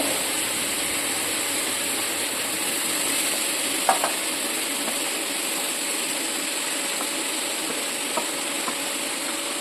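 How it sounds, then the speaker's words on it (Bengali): Fried mixed vegetables being stirred into a tomato and spice mix in a pan over a village cooking fire, giving a steady, even sizzle throughout with a couple of faint utensil clinks. "এরপর ভাজা সবজিগুলো দিয়ে দেব"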